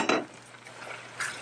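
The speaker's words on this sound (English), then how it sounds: "Just stir" Utensil scraping and clinking against a pot while stirring a yam and plantain sauce, two short metallic strokes separated by a soft, quiet pause.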